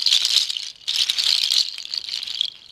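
A Native American rattle is shaken close up in bursts, producing a dense, bright, crisp rattling with short pauses between shakes, alone and fairly loud.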